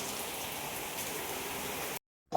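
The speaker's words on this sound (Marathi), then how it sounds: "पुण्यात खूप पाऊस आला आहे" Heavy rain pours steadily in Pune at night, a dense, even hiss with no voices, cutting to near silence for the last fraction of a second before a brief sound returns.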